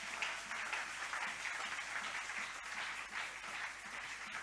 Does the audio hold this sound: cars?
no